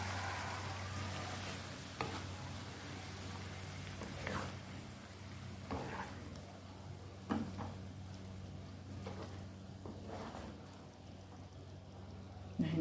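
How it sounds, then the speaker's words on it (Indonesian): Terong balado, chili eggplant, being stirred in a pan, with soft scraping strokes every couple of seconds over a steady low frying hiss; quiet and close, with no talking. "ini bisa kita aduk ya bunda ya, sampai benar-benar tercampur rata."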